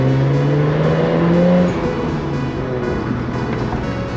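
Right-hand-drive TVR sports car heard from inside as it drives, the engine droning loud and steady, pitch dropping partway through as a gear change is made, with no talk.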